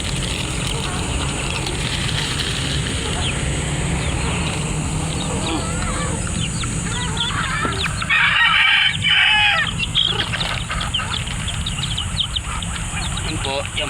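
A flock of hungry chickens clucks and squawks busily while being fed, with a rooster crowing, near and loud, as someone talks over them.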